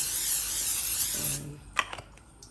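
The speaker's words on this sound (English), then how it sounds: "we're going to use the non-stick spray to just make the pan a little" A steady hissing non-stick cooking spray runs onto a pan for about a second and a half, then cuts off, followed by a few faint clicks and a brief low hum.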